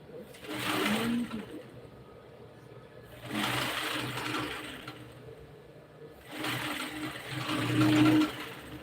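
A sewing machine stitches a bustier seam in three separate bursts of whirring. Quieter gaps fall between the bursts, and a person talks through the stitching and the pauses.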